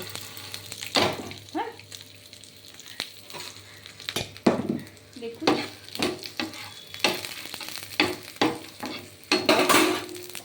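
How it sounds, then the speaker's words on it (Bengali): Peanuts fried with ginger, three garlic cloves and two green chillies in a little oil are stirred in a pan, with a steady soft sizzle beneath repeated scraping strokes and occasional clinks, close and without speech. "একটু সামান্য তেল দিয়ে এটা আমি নেড়ে নেব"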